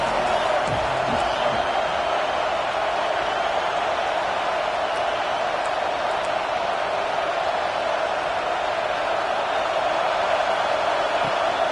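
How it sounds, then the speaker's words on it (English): A football stadium crowd makes a dense, steady wash of roaring noise that holds constant throughout, loud and continuous with no clear breaks. "This crowd bringing the energy and noise early."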